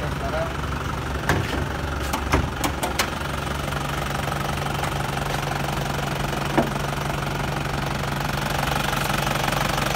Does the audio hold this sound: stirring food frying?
no